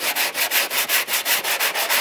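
A sanding block rasps back and forth over body filler on a classic car dent in a quick, even rhythm, about ten close, loud strokes with no talking.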